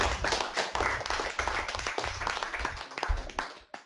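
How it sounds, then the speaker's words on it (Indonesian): Wedding guests at a church marriage blessing clap their hands together, a lively uneven patter of nearby claps with distinct sharp hits, fading out at the end. "Tepuk tangan semuanya."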